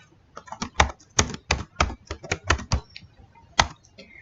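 Typing on a computer keyboard while entering a food and drink order in a desktop ordering program: about a dozen sharp, close key taps in an uneven rhythm, with brief pauses, alone without talk.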